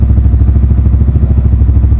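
A Yamaha R15M motorcycle fitted with a Grace aftermarket exhaust and no dB killer idles close by, a loud, deep, even burble with a steady low pulsing throb and light mechanical clatter.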